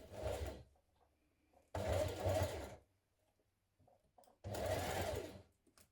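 A sewing machine stitches a blouse seam in three short bursts, each about a second long, separated by quiet pauses, close and alone.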